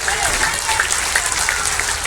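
Dense, sustained applause from a large crowd at an outdoor Ram Katha religious festival on a big open ground, steady and loud throughout with a faint voice mixed underneath.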